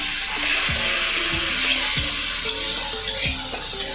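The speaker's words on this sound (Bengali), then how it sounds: "এটাকে ভালো করে ভেজে নেব আদা রসুনের কাঁচা ভাবটা চলে যাওয়ার পর" Ginger-garlic paste fries over low heat with a soft, continuous sizzle, and a utensil scrapes and taps the pan a few times as it is stirred.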